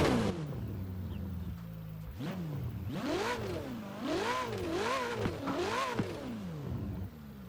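Ferrari 488 Pista engine in the Forza Horizon 4 racing game, revving repeatedly in rising and falling sweeps after a brief idle, loud and close with no talk over it.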